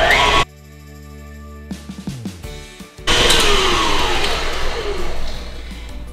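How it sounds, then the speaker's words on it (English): An electric stand mixer beats butter and shortening at medium-high speed. A steady whirring motor roar starts partway through and holds loud and continuous to the end, after a stretch of other tones. "And then just beat that on a medium-high speed for about 5 minutes."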